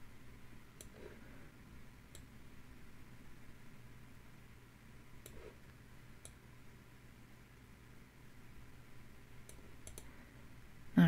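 Sparse, quiet mouse clicks from a computer user selecting lines in Affinity Designer, about eight isolated sharp ticks spread across the stretch over a low steady hum, with no talking.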